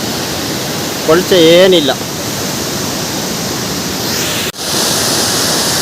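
Steady broadband rush of a hidden waterfall near Thirthahalli runs throughout, loud and continuous, with a brief spoken remark near the start and a short dip in the roar toward the end.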